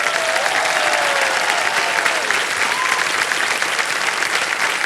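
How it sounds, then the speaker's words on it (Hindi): A studio audience on the KBC quiz show applauds loudly, a dense, sustained wall of clapping that holds steady throughout with no break. "इतनी जोर से जनता ने ताली बजाई।"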